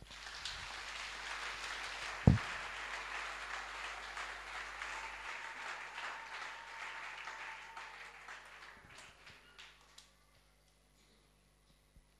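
A church congregation applauds to acclaim the Lord, a steady crowd of clapping that holds for several seconds with one sharp knock near the start, then thins and fades into near silence.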